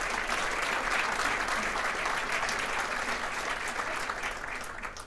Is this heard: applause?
yes